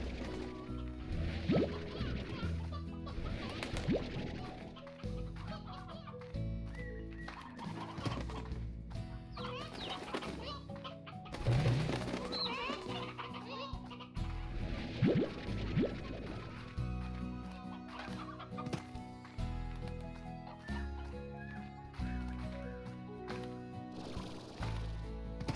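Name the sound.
chickens clucking in the video game Slime Rancher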